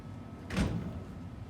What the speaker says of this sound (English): functional sliding doors